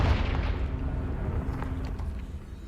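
Confringo blast spell going off in a video game, a deep booming explosion that starts loud and then rumbles and fades away over a couple of seconds.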